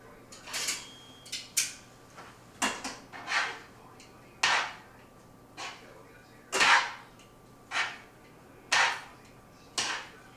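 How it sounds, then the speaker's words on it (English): Spaghetti is dropped into a pot with pancetta and stirred, giving a series of distinct scraping, clattering knocks of utensil against pot, about a dozen bursts spaced roughly a second apart, close and fairly loud. "I'm going to put now the spaghetti into that pot, and I'm going to stir it up"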